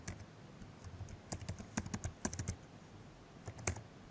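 Numbers being typed into Excel on a computer keyboard, quiet irregular clusters of key taps with short pauses between bursts, close and alone.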